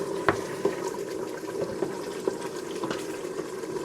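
Green pork sautéing in a Ninja 15-in-1 multi-cooker gives a steady low crackle and sizzle, with soft scattered pops and light clinks throughout, moderately close and without talk.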